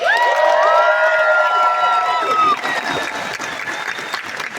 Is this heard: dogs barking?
no